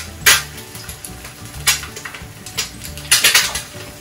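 Clattering metal against a pan in a few sharp bursts over a soft, steady background of a fried egg sizzling in the pan.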